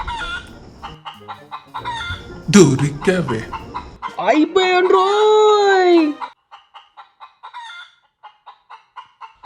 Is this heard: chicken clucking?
yes